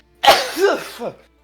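One loud close sneeze with a sharp intake and a burst, followed by a short voiced trailing sound, alone against near silence.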